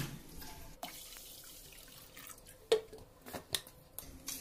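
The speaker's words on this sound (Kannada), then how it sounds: "ಇನ್ನು ಸ್ವಲ್ಪ ನೀರು ಹಾಕೋಣ." Water splashes and trickles into a pressure cooker holding rice and lentils for bisi bele bath, with several distinct sharp splashes over a softer steady pour, close by and fairly quiet.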